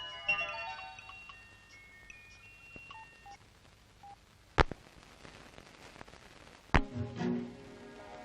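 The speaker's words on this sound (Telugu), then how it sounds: "ఫోన్ చేసుకోవాలి." A phone keypad dialed in a film scene gives a quick run of electronic tones near the start. Later come two sharp, loud clicks with a faint hum between them.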